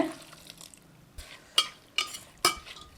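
Water is poured into a pressure cooker holding chopped banana stem and moong dal, producing splashy, dripping pours with a few sharp clinks of utensil against the pot, close up and uneven.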